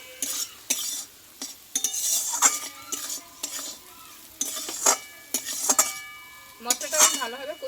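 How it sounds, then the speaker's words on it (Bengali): Spice paste is fried and stirred in oil left over from frying tilapia. A metal spoon scrapes and clinks against the pan in close, irregular strokes over a bright, steady sizzle, with no talking. "আমি তাই মাছ ভাজার তেলে কিন্তু মশলাটা কষিয়ে নিচ্ছি"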